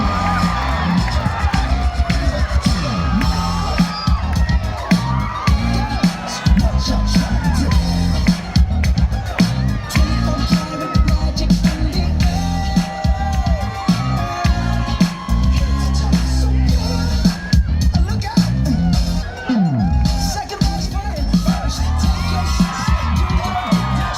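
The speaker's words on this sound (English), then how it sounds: "Huge round of applause." A crowd at a college pageant cheers, whoops and shouts loudly for a contestant taking the stage, a constant roar of voices with a public-address voice speaking over it.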